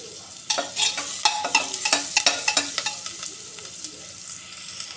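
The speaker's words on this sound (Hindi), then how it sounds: "प्याज को भी हम थोड़ा सा फ्राई कर लेंगे" Chopped onion and ginger fry in a pan, a steady sizzle broken by a run of sharp, close spoon-scraping strokes that grow sparser toward the end, with no talking.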